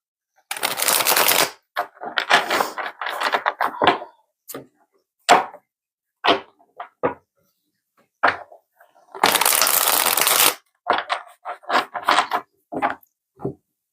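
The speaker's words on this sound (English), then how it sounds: "Beautiful shuffle there." Tarot cards being shuffled, with two long riffling bursts separated by many short, crisp taps and snaps as the cards are squared and handled up close.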